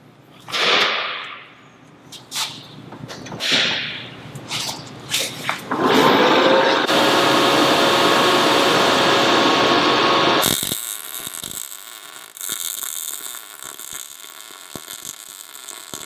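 A MIG welder runs at 135 amps on 1/8 inch steel, giving a loud steady crackling buzz for several seconds after a few scattered clanks and hisses, then cutting off into quieter background noise.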